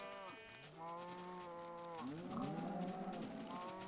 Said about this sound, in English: Moo cow, come on.